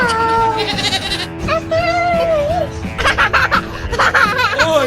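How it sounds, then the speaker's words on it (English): On a farm, a goat bleats loudly and close by in several wavering calls, while children giggle and a voice sounds in the background. "Goat."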